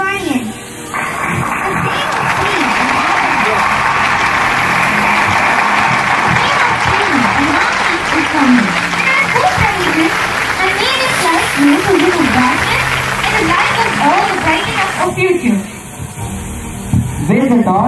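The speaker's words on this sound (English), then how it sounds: "Give a thunderous applause to our Sivanians" Thunderous applause from a school audience at an Olympic torch event, a loud sustained roar of clapping that runs steadily for many seconds, with children's voices and a public-address voice mixed through it.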